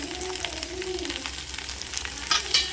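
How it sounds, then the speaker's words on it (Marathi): Okra (bhindi) fries in a pan while being stirred, giving a steady close sizzle with a few louder scraping stirs near the end. "थोडी स्लाइटली तरी गरम करून घ्यायची, व्यवस्थित भाजून घ्यायची."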